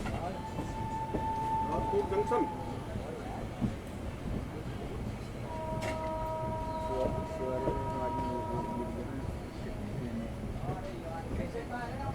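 An Indian Railways train running from Goa to Rajkot in heavy monsoon rumbles steadily throughout, a continuous rolling noise with tonal hums, heard from inside the carriage.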